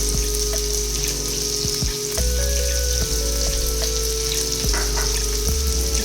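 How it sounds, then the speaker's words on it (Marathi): Chopped spring onion fries in oil in a pan, a constant crackling sizzle with a few sharp clicks and knocks of a utensil, close and loud with no talking. "कांदा तळून घेणार आहे. आता हा कांदा तळूया."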